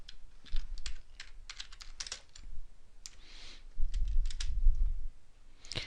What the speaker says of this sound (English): just going to type over that